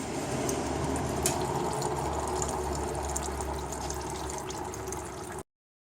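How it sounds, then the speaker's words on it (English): Transmission fluid from a six-speed DSG automatic gearbox draining out of the drain hole into a container, a steady liquid trickle and splash that runs continuously and close, then cuts to silence at the end. "Now this oil now will be just draining out"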